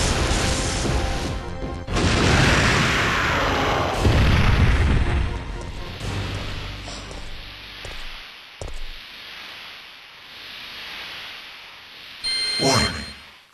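A cannon firing at Nemesis in Resident Evil 3, heavy booming blasts and crashing impacts early on, then quieter mechanical noise and a final burst near the end.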